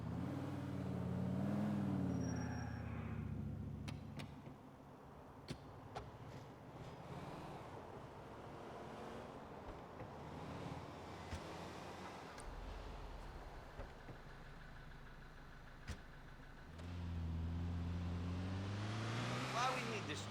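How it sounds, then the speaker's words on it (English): A truck's engine in the video game GTA IV rumbles steadily at low pitch throughout, with brief clicks and a swell of louder engine noise near the end, while voices speak over it. "this is the truck."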